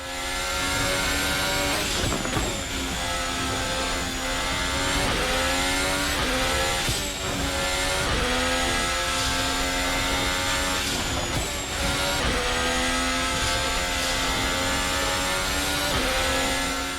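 Formula 1 race car at full power through the final sector of the Vietnam Grand Prix in a racing video game, the engine screaming loud and steady with rising and falling revs at gear changes, no talk.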